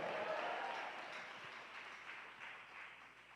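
A church congregation at a worship service applauds together, a steady, moderately distant wash of clapping that gradually tapers off.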